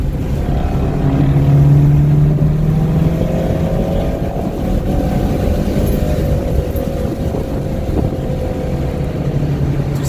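A race car on a track at PDX, its engine droning loudly and continuously with rising and falling pitch sweeps, heard from inside the car.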